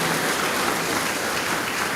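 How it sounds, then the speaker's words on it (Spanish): A church congregation at a Sunday evangelistic campaign service claps steadily and loudly, a dense, continuous wash of applause that carries on without a break. "Aplauda, aplauda con ganas, aplauda al Señor."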